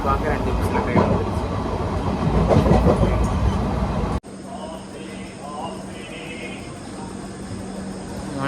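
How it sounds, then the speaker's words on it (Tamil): A train pulls into a station in Kerala, rumbling loudly up close with rattling carriages before a sudden cut to a quieter, steadier hum with a faint tone and voices in the background. "நான் ஓரளவுக்கு கரெக்டாக வச்சு பார்க்க 2 நிமிஷத்தில் ட்ரெயின் வந்துருச்சு."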